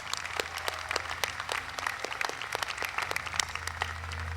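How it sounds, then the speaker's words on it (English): A university convocation audience applauds a vocal quartet, individual claps standing out within a moderate, steady round, with a low hum underneath. "Let's give them another round of applause along with Vice President Hanson."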